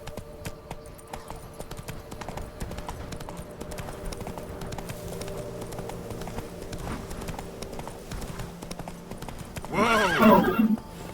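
A horse in The Witcher 3 gallops with a steady rhythmic clip-clop of hooves, then lets out a loud, close, wavering neigh near the end.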